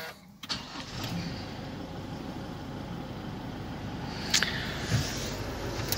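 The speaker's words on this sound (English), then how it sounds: "So if I start the vehicle" A 2024 Isuzu D-Max 300 engine cranks briefly and catches, then settles into a quiet, steady idle with a couple of faint bumps later on.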